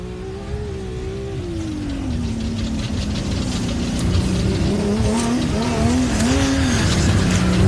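An off-road race car at the Loveday 400 in the LoveDay 4x4 Adventure Park, its engine note rising and falling through the final corners, loud and close with rough tire and gravel noise underneath, no talk.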